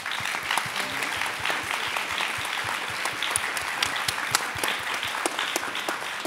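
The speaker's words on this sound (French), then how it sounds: "Je propose qu'on les applaudisse." Audience at a contemporary dance panel discussion in a theatre applauds the four panel speakers with steady, dense clapping that fills the room and continues evenly throughout.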